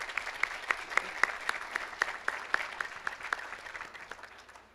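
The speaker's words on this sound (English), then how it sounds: "Round of applause." Audience at a college athletics hall of fame induction for a 1988 field hockey team claps, sparse individual claps distinct and fairly quiet, a modest crowd applauding briefly.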